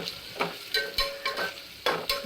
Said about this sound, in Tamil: இந்த ஆயிலே இவங்க நல்ல பொன்னிறமாக வதங்க விட்டுறலாம்.